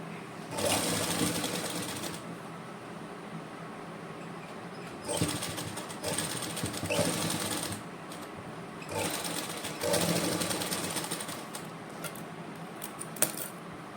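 A sewing machine stitches lace onto cloth in several quick whirring bursts, stopping and restarting with brief pauses between runs, close and clear.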